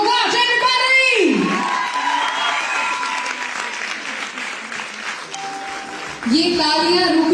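A Women's Day event crowd applauds Indian wrestler Babita Phogat with loud sustained clapping and cheers, an amplified announcer's voice over the start and again near the end.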